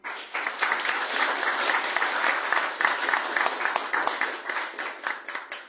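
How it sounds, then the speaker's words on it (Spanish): A crowd at a book presentation in San Martín, Buenos Aires, claps loudly for the two authors, a dense, even burst of applause that starts abruptly and holds steady to the end. "queríamos pedir un fuerte aplauso para Hernán y Martín"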